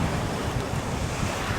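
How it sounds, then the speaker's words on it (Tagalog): Strong ocean waves surge and wash continuously at a fishing spot, with heavy wind buffeting the microphone throughout. "Naglakas yung alon doon"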